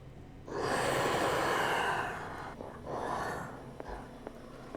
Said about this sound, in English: Go off of its fucked up breathing noises.